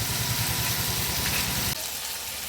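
Rui fish head frying in a hot pan for muri ghonto, a loud continuous sizzle that drops to a quieter, thinner hiss partway through.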